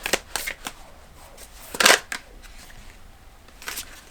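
Tarot cards are shuffled and drawn in a quiet room, with soft riffling flutters and papery slaps in irregular bursts, one louder snap in the middle, all close and gentle with no talking.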